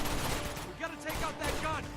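Enemy gunfire in Uncharted 2 rattles in a few quick bursts across two seconds, with a player's voice talking over the shooting.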